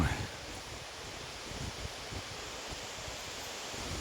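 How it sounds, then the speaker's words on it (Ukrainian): Steady wind rushes through trees strong enough to topple them, a constant broad roar with no clear gusts or pauses. "Вітер сьогодні такий, дерева падають,"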